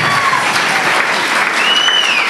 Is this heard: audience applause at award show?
yes